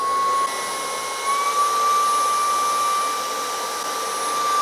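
Dreame H14 Pro wet-dry floor vacuum running its self-cleaning cycle with the brush spinning inside its enclosed dock, a steady loud motor whine with a high tonal hum, constant throughout with no talking.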